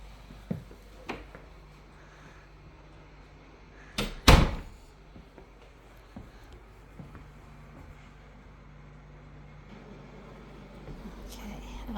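An old home's kitchen door opens with a sharp thud and rattle of the latch, a single loud burst after a few quiet knocks, set in a still room with faint background hum.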